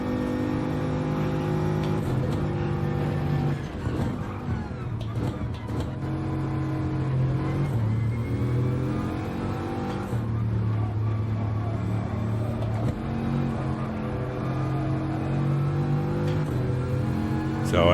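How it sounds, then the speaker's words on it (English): A Bugatti Veyron engine in a racing video game at Yas Marina revs hard, a loud sustained whining drone that rises and dips in pitch over and over, close and continuous. "So I am going to rev the piss out of it."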